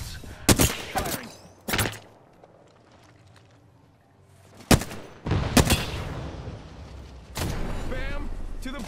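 Gunfire in the battle royale game Apex Legends, with sharp separate bursts of shots and a longer volley near the end. Quiet gaps fall between them, and game voice lines can be heard in between.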